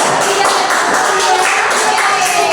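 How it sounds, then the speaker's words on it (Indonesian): Classroom applause from students during a micro-teaching lesson on biography texts, a loud, dense wash of clapping that runs steadily through the whole moment without pause. "Luar biasa, tepuk tangan."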